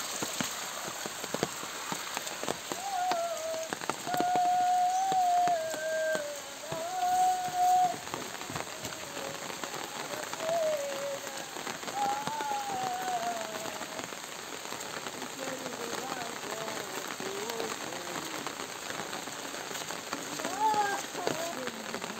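Heavy rain falls steadily in a rural Konkan village, a continuous hiss running beneath intermittent speech and faint tonal sounds, moderately loud throughout.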